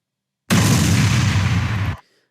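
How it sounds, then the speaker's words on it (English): Explosion sound effect played back in an editor, one loud sustained boom and rumble lasting about a second and a half that cuts off abruptly into silence. "it plays the explosion."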